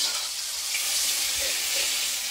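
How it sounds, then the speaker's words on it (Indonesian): Shallots and pepper sauté in hot oil in a home kitchen as the filling base for martabak. A steady, loud, close sizzle runs unbroken throughout, with no talking. "Bumbu-bumbunya berambang bawang dan merica ini kita tumis."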